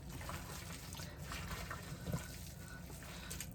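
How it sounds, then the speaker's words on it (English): Running water from a kitchen sink tap trickles and splashes faintly as fingers are rinsed while making meatloaf, a soft continuous flow with a small splash near the middle. "rinsing my fingers as I crack the eggs and stuff"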